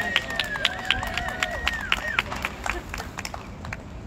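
Scattered applause from an audience at an outdoor climate protest outside Shell, sparse claps under a talking voice and general crowd murmur, fairly faint.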